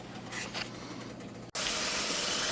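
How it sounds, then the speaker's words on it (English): Steady, loud hiss of steam venting from a pressure canner while beef in broth is being processed, a continuous broadband rush that cuts out briefly and then returns stronger and unbroken. "we've got a good steady stream of steam coming out of here for 10 minutes"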